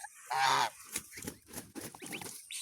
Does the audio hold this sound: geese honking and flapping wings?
yes